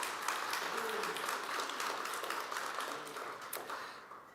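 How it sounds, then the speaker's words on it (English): Volunteers at a spring town hall receive steady audience applause, a dense wash of hand claps at moderate level that holds for several seconds before thinning toward the end. "So let's give them one more round of applause because they are so awesome."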